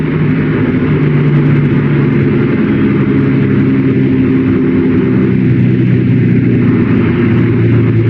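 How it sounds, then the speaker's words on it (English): A Volkswagen slows to a stop, its loud, droning engine note holding steady before easing slightly lower toward the end, heard up close without speech. "And braking to a stop."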